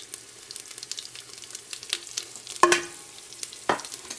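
Nigella seeds, fenugreek and mustard seeds with spices crackle in hot oil as tempering for karhi: a soft steady sizzle with scattered pops, then two sharper bursts of crackling near the end, close up and with no talk.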